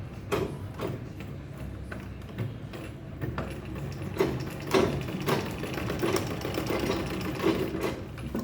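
A sewing machine runs a double line of stitching along a handmade handbag, a steady mechanical whirring and ticking with slight surges in speed throughout, close and alone.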